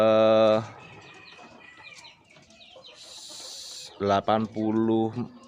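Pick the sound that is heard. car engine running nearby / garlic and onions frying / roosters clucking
roosters clucking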